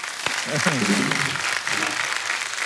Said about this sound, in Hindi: एक बार जोरदार ताली हो जाए जरा।